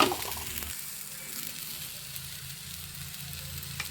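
Chili powder hitting hot oil in a frying pan gives a steady, close broadband sizzle that starts with a brief louder burst, then continues evenly with no talking.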